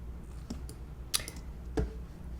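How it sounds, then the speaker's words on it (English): A few isolated key presses on a computer keyboard, used while preparing a laser-cut baby shower sign design, sound as sharp clicks spaced apart over a low steady room hum. "I'm pushing D on my keyboard, not delete"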